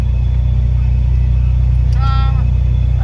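A Honda Civic fitted with a loud sound system, rolling past on a street; a steady, heavy low engine rumble with a deep droning bass persists throughout, close and loud.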